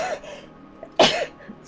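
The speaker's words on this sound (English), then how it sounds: "I'm having sneezes already." A single abrupt, explosive sneeze from a nearby person bursts out in the middle, preceded and followed by faint breathy vocal sounds.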